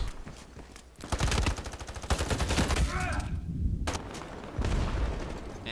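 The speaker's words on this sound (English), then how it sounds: "Let's shoot 308." Rapid bursts of .308 rifle fire in the online shooter Ironsight, loud repeated shots in several volleys with a short pause midway and a faint bit of talk between them.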